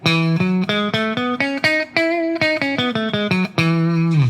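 A clean electric guitar plays a stepwise ascending Ionian mode scale, single notes picked one after another at a steady pace, ending on a sustained higher note.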